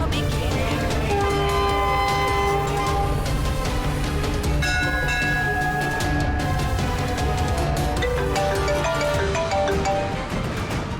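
Gitanjali Express, running from Mumbai to Kolkata, moving through a station in a scene about a train disaster: continuous dense rumble with sustained horn-like tones, steady and loud for the whole stretch.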